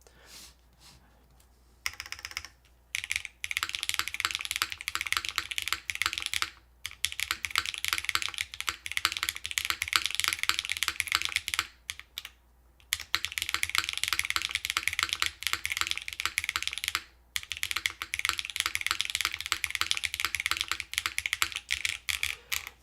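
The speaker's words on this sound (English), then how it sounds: "All right, let's type on this some more." Rapid continuous typing on a TOFU60 3.0 mechanical keyboard with a PEI plate, dense close clacking in long bursts separated by a few brief pauses, with no talking.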